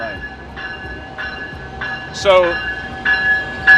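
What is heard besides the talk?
Amtrak Pacific Surfliner passenger train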